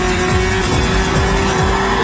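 Ski-doo Mach Z snowmobile with an 800 triple engine accelerating hard, a loud, steady high-revving engine roar that fills the whole clip without letting up.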